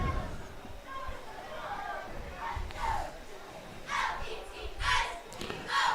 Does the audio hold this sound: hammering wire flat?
no